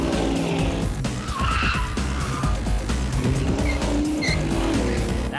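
A car guns its engine and surges forward over a scale toward a Corvette, the loud engine roar mixed with tire squeal and skidding throughout, close and continuous.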